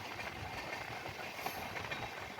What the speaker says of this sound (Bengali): এই যেমন আমাদের ট্রেনটা এখন ফাস্ট চলছে